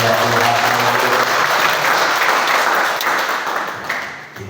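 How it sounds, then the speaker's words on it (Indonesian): Loud applause from a church congregation, many hands clapping in a dense, steady roar that eases off slightly toward the end. "kita berikan tepuk tangan lagi buat Tuhan."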